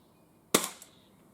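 An Umarex MP7 spring air pistol fires a single pellet at paper targets, a sharp close crack with a brief springy rattle afterward, otherwise quiet.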